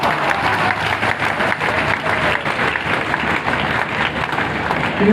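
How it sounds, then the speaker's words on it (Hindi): An audience at a live Hindi kavi sammelan with poet Kumar Vishwas in Sonkatch, Dewas, breaks into loud, sustained applause that stays dense and steady throughout. "ताली बजा सकते हो आप।"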